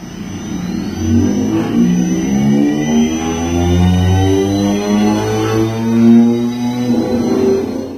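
A 100 HP electric go-kart motor hums and revs steadily, its pitch rising and falling in smooth sweeps, loud and close with no voices.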